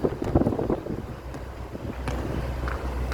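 Strong wind buffets the microphone in rumbling gusts, a low roaring rush that rises and falls throughout; no one speaks. Outdoors where racing pigeons are being flown.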